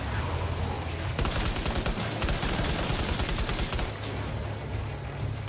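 Rapid machine pistol fire from Death Stranding 2 rattles out in a sustained, dense burst of closely spaced shots lasting a few seconds, loud and close over a low rumbling game background.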